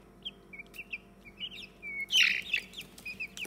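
Young chicks give high, thin peeping chirps in short scattered calls, rising to a louder cluster of cheeps near the middle, with no talking.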